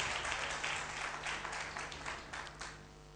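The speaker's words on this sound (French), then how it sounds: "Acclamons le Seigneur." A congregation applauding in church during a French-language worship service, a steady wash of clapping from many hands that carries on without a break at moderate, slightly distant volume.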